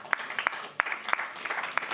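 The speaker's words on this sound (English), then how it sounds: "a big round of applause for our panelists" An audience at a climate adaptation and resilience conference applauds its panelists, a brief burst of close, dense clapping with sharp individual claps standing out.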